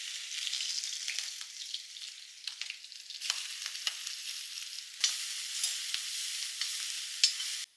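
Ginger and garlic fry in a small amount of hot oil, giving a continuous close crackling sizzle with occasional stirring scrapes and brief louder spits, alone without talk.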